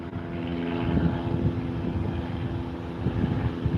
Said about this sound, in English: What's up with all these airplanes and helicopters, man?